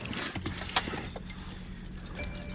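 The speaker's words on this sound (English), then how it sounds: "I have 2 keys in my hand." Two car keys jangle in a hand outdoors in a snowy driveway during a blizzard, a few bright metallic rattles and clinks, fairly close and quiet, with no talking.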